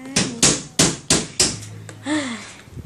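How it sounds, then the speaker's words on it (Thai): A hammer drives nails with five sharp, evenly spaced strikes, loud and close, followed by a short murmur of voices. "พ่อกำลังตอกตะปู"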